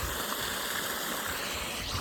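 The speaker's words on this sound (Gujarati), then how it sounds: "ઝારમાં પાણી હાલે છે" Water pours steadily from a motor-pumped outlet in an outdoor farm setting, a continuous close rushing and splashing with no break.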